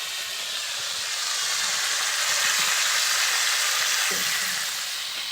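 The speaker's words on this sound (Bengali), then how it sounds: "তো কাঁকড়াগুলোকে অবশ্যই খুব ভালো করে ভেজে নিতে হবে।" Sea crabs fry in oil with a steady, broad hiss of sizzling that swells slightly toward the middle, a continuous close sound with a couple of faint knocks and no voices.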